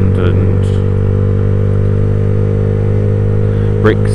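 A Yamaha YZF R125 motorcycle engine drones loud and steady at close range, a constant mid-pitched hum with slight clatter, under a rider's voice.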